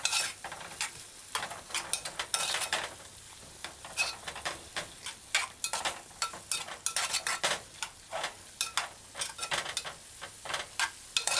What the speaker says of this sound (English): So you just stir in like this